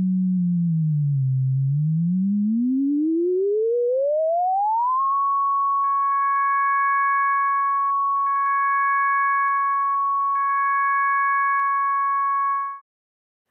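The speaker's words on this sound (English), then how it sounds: "Use the tone controls to shift from a simple sine wave to a tone with a few additional harmonics." A steady pure tone glides upward in pitch, then holds level; partway through, fainter higher overtones join in, sounding alone and clean until it cuts off.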